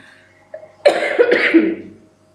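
Two close, loud coughs from a person presenting an MYOB accounting software tutorial, sharp and near, after a faint short throat sound, then quiet.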